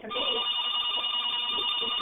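Telephone bell ringing indoors during a recorded interview, a steady continuous electronic ring held at even loudness through the whole stretch.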